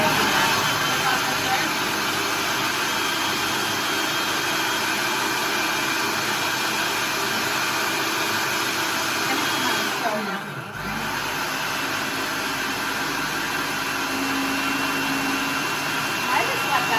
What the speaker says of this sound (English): So we are now just gonna puree this.